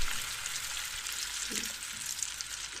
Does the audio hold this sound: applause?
no